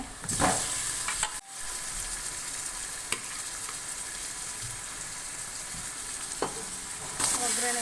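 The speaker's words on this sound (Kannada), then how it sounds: "ಇವಾಗ ನಾಟಿ ಕೋಳಿ ಹಾಕೋತಾ ಇದ್ದೀನಿ ಒಗ್ಗರಣೆಗೆ" Country chicken pieces hitting hot oil in a spice tempering, village style, give a steady loud sizzle that runs the whole time, with clattering stirs near the start and again toward the end.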